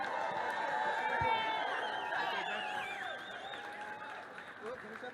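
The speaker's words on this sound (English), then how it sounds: "So give yourselves a round of applause right now" A crowd at a Denver election-night rally applauds and cheers, with whoops and overlapping voices over a steady wash of clapping that holds for several seconds before easing slightly.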